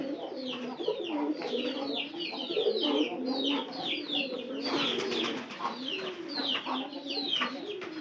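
Pigeons inside a house coo steadily in soft, overlapping calls, close by, with a few sharper chirps mixed in.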